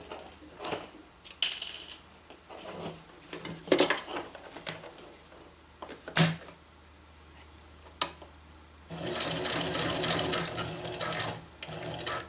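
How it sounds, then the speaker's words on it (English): Sewing machine stitching around a square on a DIY outdoor water bottle carrier, with bursts of rapid mechanical whirring separated by pauses and a longer steady run near the end, heard close up without talk. "Then I'm going to sew all the way around the square here where these two pieces line up."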